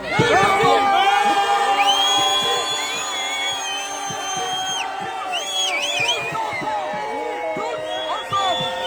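Large outdoor rally crowd for Palestine, roughly 5000 people, shouting and whooping in a dense continuous roar with rising cries and chanted calls, steady and loud throughout.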